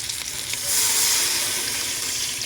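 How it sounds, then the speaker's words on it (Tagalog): Water is poured into a hot pan for siomai soup, and a loud, steady hissing sizzle swells midway and then settles into a continuous bubbling rush. "then we'll add a lot of water"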